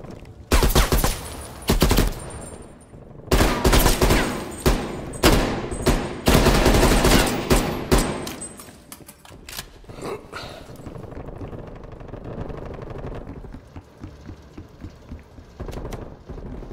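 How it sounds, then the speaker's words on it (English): Gunfire in the Fortnite video game: loud, sharp rapid bursts and single shots clustered in the first half, then thinning to scattered quieter shots and game noise. "A lot of gunfire over in this direction."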